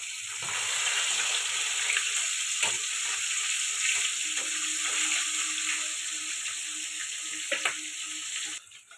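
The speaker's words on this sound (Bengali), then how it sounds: "মাছগুলো ভেজে নেওয়ার জন্য তেলটা গরম হয়ে গেছে।" Pieces of fish fry in hot oil in a wok, giving a continuous crackling sizzle up close, with occasional sharper pops and spatters, until it cuts off near the end.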